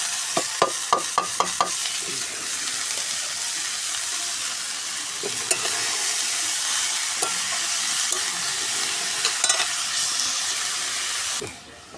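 Onion and red amaranth leaves frying in a pan, a steady close hiss of sizzling oil broken by a quick run of sharp spatula scrapes and taps at the start and scattered knocks later.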